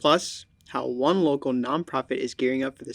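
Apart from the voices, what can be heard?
None of the usual background noises is heard.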